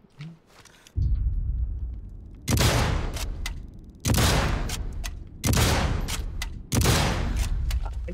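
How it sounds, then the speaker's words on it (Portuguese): Sniper Elite 5 multiplayer gunfire comes in several loud bursts a second or so apart, each trailing off into a booming rumble. "gastei tiro pra caramba e não derrubei aquele cara"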